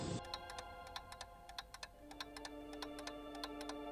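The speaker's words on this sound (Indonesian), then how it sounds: "Suasana malam itu sungguh sepi, hanya terdengar suara jam dinding." A wall clock ticks softly in a silent room at night, its faint, crisp ticks repeating at a steady pace over a quiet hum.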